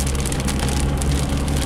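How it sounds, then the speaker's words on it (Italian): Heavy downpour drumming on a moving car while driving, a dense, loud, continuous wash of rain noise over low road rumble, with no talking. "E davanti a me il diluvio, ecco, entriamo nel diluvio."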